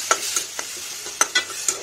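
Elephant apple frying briefly in a pan with fish, a low sizzle broken by a handful of sharp stirring scrapes and clacks at irregular intervals, close and fairly loud.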